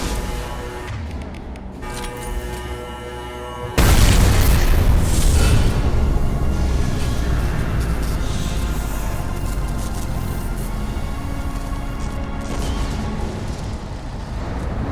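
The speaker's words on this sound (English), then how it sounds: "Firing a high-impact shot!" A high-impact shot fired in the video game Mass Effect 2, with a quiet humming lead-in, then a sudden loud booming blast and a long rumbling roar that slowly tapers.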